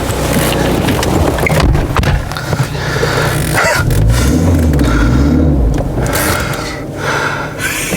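A Citroën Xsara drives off and is test-braked, giving a close rumbling engine and road noise, buffeted by wind, with a low grinding, shifting tone midway.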